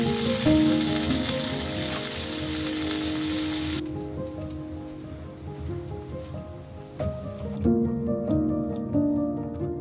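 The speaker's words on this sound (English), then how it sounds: "And this is how I toast my bread. Apparently my pan was very hot." Bread toasting in a very hot pan in a travel trailer gives a steady hissing sizzle mixed with clattering, rain-like noise and a faint humming tone, moderately loud throughout with no talk.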